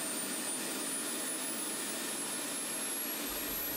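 A model jet turbine runs steadily on Jet-A1, kerosene or diesel, giving a continuous loud broadband roar and hiss with a thin high whine, alone with no talk.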